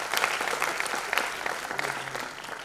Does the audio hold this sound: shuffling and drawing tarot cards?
no